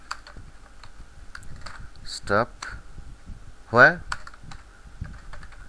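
Computer keyboard keys click sparsely while code is typed, with soft, irregular taps spread across the moment and a person speaking briefly in between.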